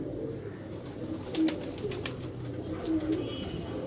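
Pigeons cooing softly in a low, repeated murmur, with a couple of slightly louder coos standing out against steady background noise.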